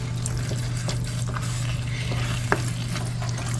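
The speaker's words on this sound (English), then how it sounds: "We're going to mix it up really good." A spoon stirs an unstuffed cabbage casserole mixture with parsley in a bowl, producing a wet, continuous squelching and scraping close up, with a low hum underneath.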